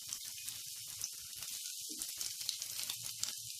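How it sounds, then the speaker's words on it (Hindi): Onions fry in a pan over a medium flame with a close, steady sizzle and a scatter of fine crackles and pops. "अब हम इसे मीडियम फ्लेम पे 4 से 5 मिनट के लिए फ्राई कर लेंगे, ताकि जो प्याज है थोड़ा सॉफ्ट हो जाए।"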